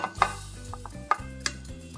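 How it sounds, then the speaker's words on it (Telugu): Sweet corn fritter batter with gram flour, rice flour, onion and green chilli being stirred in a bowl, giving a few soft scraping and clinking strokes at close range, with no talking. "ఇప్పుడు ఇవన్నీ కలుపుకోవాలి"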